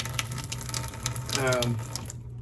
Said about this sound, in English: this is the filtered water coming out here.